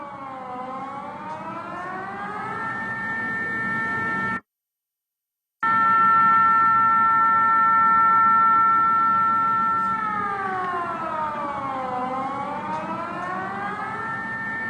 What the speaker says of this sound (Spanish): Ahí están las sirenas activadas sonando en Qatar ante el ataque que ha emprendido la República Islámica de Irán